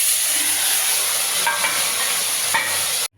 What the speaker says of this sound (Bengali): এবার আমি গোটা এলাচ, দারচিনি দিয়ে দেব ফোড়নে।